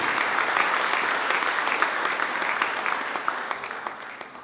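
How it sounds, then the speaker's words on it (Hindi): A crowd at a poetry gathering breaks into sustained applause, a dense, even wash of many hands clapping that slowly tapers off toward the end. "आपकी तालियां अपने लिए।"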